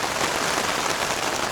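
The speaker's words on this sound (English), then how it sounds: "just hope it stops raining tomorrow morning." Rain pours down steadily and close by, a dense, loud, unbroken hiss of drops striking surfaces with no voices or other sounds.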